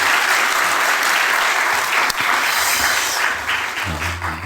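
A church congregation claps in encouragement, a loud, dense wash of applause that carries on steadily and thins slightly near the end.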